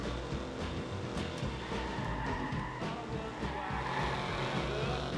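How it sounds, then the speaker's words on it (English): A car drifting in the video game Watch Dogs, a strained engine roar with tire noise and scattered sharp knocks, steady and fairly faint over a music bed. "That drift though"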